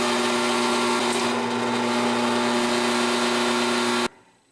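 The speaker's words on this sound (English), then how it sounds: "drill our hole now through actually the metal blade, using the hole in this scale as a guide" A drill press bores through the metal blade of an Ontario Knife Co. short chef's knife, guided by the hole in the handle scale, a steady loud whine that cuts off abruptly near the end.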